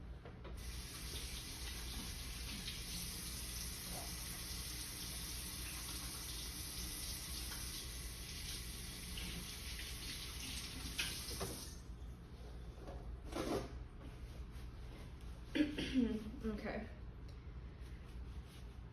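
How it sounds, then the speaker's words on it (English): Tap water runs steadily into a kitchen sink while hands are washed during dinner preparation, a close, constant hiss that stops partway through, followed by a few faint clatters and handling sounds. "I'm gonna wash my hands before I open up or cut anything else."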